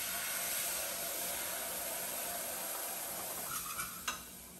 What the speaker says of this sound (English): what we're going to do now is just add some stock